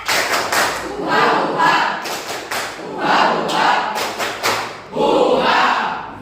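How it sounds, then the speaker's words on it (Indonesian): A group of school students performs a rhythmic spirit clap in a classroom, loud, sharp claps in bursts with shouted chanting mixed in, lasting several seconds. "Mari kita melakukan tepuk semangat dalam hitungan ketiga."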